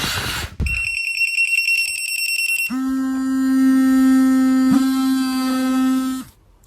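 An anti-bark dog collar's electronic alarm beeps: a high pulsing tone, then a steady lower buzzing tone that holds for several seconds before cutting off, loud and close.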